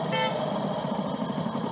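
A car horn blares briefly from behind a scooter on a Kaohsiung street, one short honk at the start, followed by a low, steady hum of traffic.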